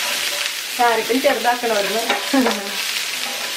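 Garlic frying in coconut oil in a hot pan keeps up a steady sizzle, partly masked by someone talking over it.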